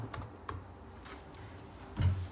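Keys clatter softly on a replacement keyboard fitted to an Asus TP201S touchscreen laptop, a few scattered taps with one louder press near the end, faint and close with no talking.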